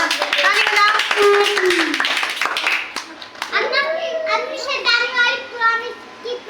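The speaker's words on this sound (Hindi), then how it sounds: "ये भैया तालियां बजाओ, सब बच्चे ताली बजाओ," Children clap together at a birthday cake cutting, a quick burst of claps mixed with excited kids' voices and adult speech close by.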